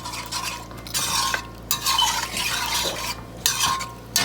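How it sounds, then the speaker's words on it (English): Flour slurry being whisked into a thick goat stew gravy in a pot, a steady rhythmic stirring scrape with occasional metal clinks against the pan, close and fairly loud, no one speaking. "I'm gonna go in and whisk in this slurry in here"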